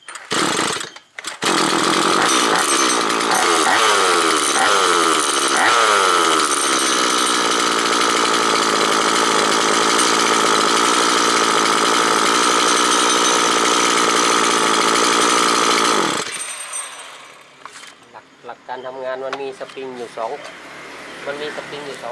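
A STIHL MS 180 chainsaw, fitted with a new pull-start rope and light-pull starter, is cranked with a few rasping cord pulls. It fires and runs loud and close at a steady roar for about fifteen seconds, then shuts off, leaving faint clatter.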